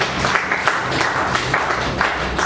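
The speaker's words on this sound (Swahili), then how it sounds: "Yesu makofi yako basi" A church congregation at a Thursday worship service claps together in steady, rhythmic applause at moderate volume, the beats evenly spaced and sustained throughout.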